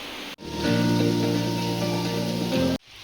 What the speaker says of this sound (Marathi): आम्हाला आता घरी जायला निघायचं आहे आणि जोराचा पाऊस आलाय